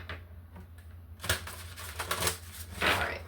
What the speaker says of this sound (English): let's see what comes out in the shuffle out of the Soul Awakening deck